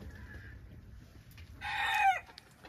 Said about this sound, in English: It's a Catawba rooster and a Denizli Sanjak cross hen.